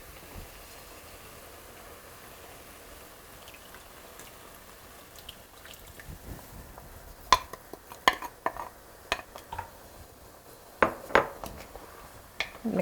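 Baby back ribs are stirred with sauce in a pot, giving intermittent scraping and clinking strokes over a low simmer, soft at first and growing more frequent.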